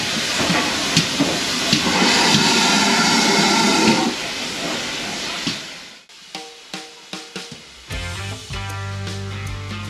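A steam locomotive at the Dartmouth Steam Railway gives off a loud, sustained hiss that stops abruptly, followed by a series of short clanks and thuds and then a low chugging rumble.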